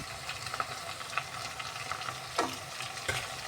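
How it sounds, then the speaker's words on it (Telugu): Capsicum curry frying and being stirred in a pan with turmeric and chili, a steady soft sizzle broken by a few scraping stirs, close and moderately quiet with no talk. "అలాగే పసుపు కారం ఇప్పుడు బాగా కలుపుకొని ఒక ఐదు నిమిషాలు మగ్గనిద్దామండి"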